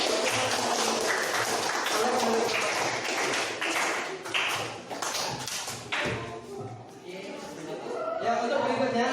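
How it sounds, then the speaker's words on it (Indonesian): A grade 8 class claps for a student group, giving a dense patter of hand claps and taps for about six seconds that then thins out, with voices chattering underneath. "Tepuk tangan untuk kelompok 2 yang sudah"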